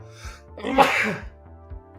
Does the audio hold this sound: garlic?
no